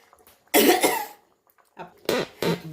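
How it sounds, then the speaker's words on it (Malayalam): A person coughs in two short bursts, the second a double cough, close and fairly loud against a quiet room. "ചുമ വരുന്നു എനിക്ക്"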